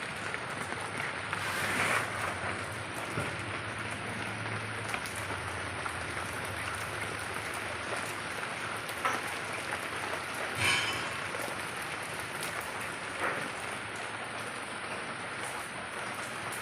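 Steady rain falls outdoors in a village in Nellore district, a continuous close hiss of drops on surfaces with a few louder splashes, no voices.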